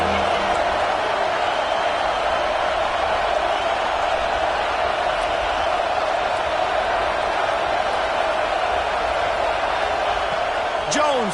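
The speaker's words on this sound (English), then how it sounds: "Man, this crowd really affecting the football game." A home crowd cheers at an LSU American football game, a dense, steady stadium roar that fills the whole stretch without letting up.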